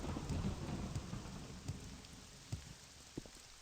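Rain falls steadily in the video game Morrowind while thunder rumbles, with a few sharp, louder crackles standing out over a soft, even downpour; no voices are heard.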